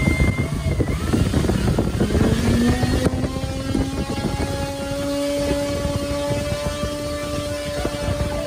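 Electric motor test run on a Swift Flight-Composites model aircraft, a loud close whirring drone whose pitch rises then settles into a steady tone, with clattering handling noises.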